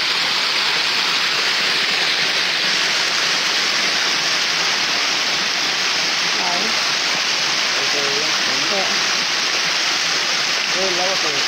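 Water gushes from a large leak with a loud, constant roaring hiss close by, and voices talk faintly beneath the rush in places.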